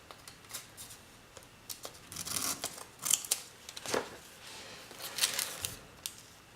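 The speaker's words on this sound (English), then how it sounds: "I'm not having the best scissors with me." Scissors snip through paper in short, crisp cuts, quiet and close, with irregular pauses between the snips.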